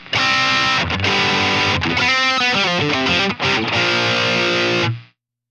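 Heavily overdriven electric guitar, through a light overdrive stacked in front of a heavy overdrive, plays a short, dense riff with thick saturated tone, loud and sustained, ending on a held chord that cuts off.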